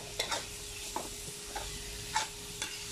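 Pork, carrots and chayote sautéing in a home kitchen pan, a soft steady sizzle broken by several light stirring scrapes, close and moderately quiet, no talk.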